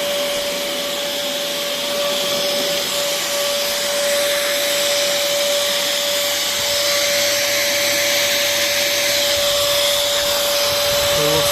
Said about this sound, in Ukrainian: У нас є пилосос.